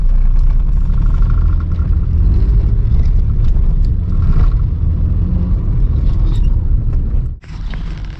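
A Suzuki Mehran car pulls away with a loud, steady engine rumble and mechanical drone heard from inside, with a brief dip in sound near the end.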